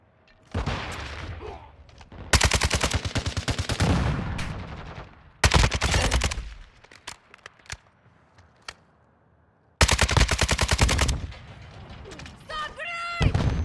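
Bursts of automatic gunfire from a Kastov rifle in Call of Duty Modern Warfare 2 Domination, loud rapid volleys separated by short silences, with mechanical clatter between shots.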